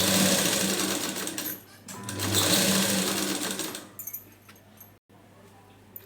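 Sewing machine stitching a blouse sleeve, a fast rattling hum that runs in bursts, pauses briefly, then resumes before trailing off into quieter handling noises; close and fairly loud.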